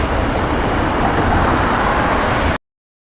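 A SEPTA commuter train near Bryn Mawr switching back onto the local track, a loud steady rumble of wheels and cars passing close until it cuts off abruptly.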